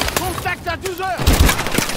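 Gunfire in the Call of Duty Advanced Warfare shooter during a bridge assault, several quick bursts of shots with a heavy boom near the end, mixed under excited shouting.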